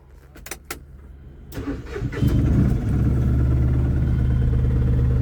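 A loaded car sets off: after a few brief knocks the engine rises into a loud, steady mid-pitched drone that holds close and continuous for the last three seconds.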